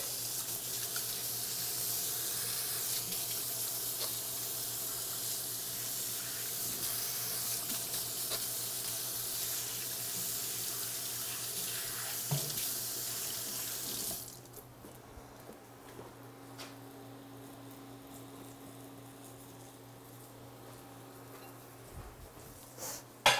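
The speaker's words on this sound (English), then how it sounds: "I'm gonna go wash my hands." A sink faucet runs steadily as hands are washed under it, a continuous close hiss of water that stops abruptly about two-thirds through, leaving a quieter room tone.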